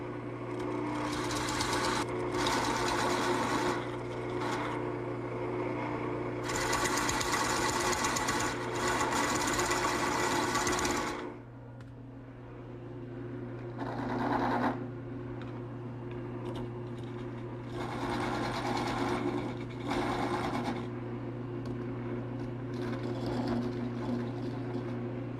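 A parting tool cutting into a wooden ball on a wood lathe in a workshop: intermittent bursts of scraping, hissing cut noise over a constant low motor hum, alone without voices.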